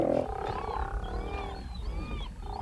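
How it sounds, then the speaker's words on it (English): Steller sea lions roaring at a crowded haul-out in Glacier Bay, Alaska, a continuous chorus of deep, overlapping growls and moans close by. "This is a haul-out for these noisy marine mammals."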